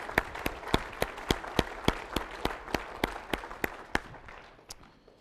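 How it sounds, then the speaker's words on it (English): Sparse, slow claps ring out one after another for a few seconds at a conference keynote, fairly faint and fading toward the end. "everybody deserves a round of applause for that accomplishment."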